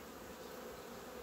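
Black honey bees buzz at an opened hive in a continuous, low, even drone, fairly faint and with no voices.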